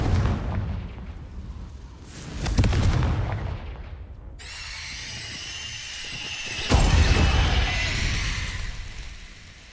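Confringo fire-blast spell in Hogwarts Legacy, heavy booming explosions followed by a bright crackling, sizzling burst that lingers, loud and close.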